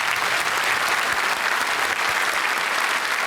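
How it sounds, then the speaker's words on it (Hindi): A quiz-show studio audience breaks into loud, dense applause for a contestant, a continuous wash of clapping that holds steady throughout. "तालियां बज जाएं इनके लिए।"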